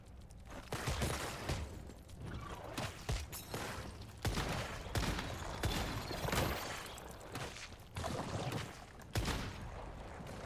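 Dense gunfire from the video game Zone of Haze, a burst of repeated shots and bangs through the whole stretch, loud and close, with no talk over it.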